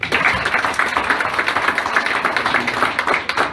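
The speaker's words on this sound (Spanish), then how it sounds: "para quien pido un fuerte aplauso" Steady applause from an audience at a mock oral commercial enforcement trial hearing, dense overlapping claps filling the room at a fairly loud, even level throughout.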